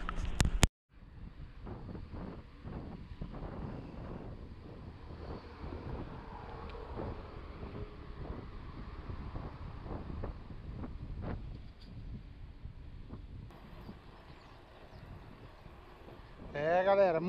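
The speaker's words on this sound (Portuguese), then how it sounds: "muito vento contra até aqui." Steady roar of strong headwind buffeting the microphone of a cyclist on a long road ride, continuous broadband rumble for most of the clip with brief louder gusts near the end.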